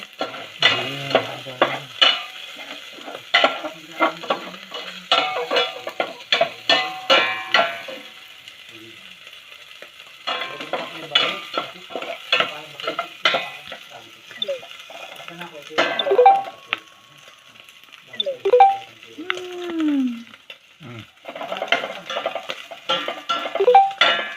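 Garlic sautéing in a pan for pinapaitan: clattering stir-and-scrape bursts over a frying sizzle, close and loud, with pauses and a person talking intermittently in between.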